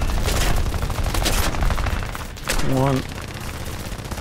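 Aircraft gunners fire machine guns in the War Thunder air arcade game, with loud, sustained rattling bursts over engine drone and a brief spoken word partway through.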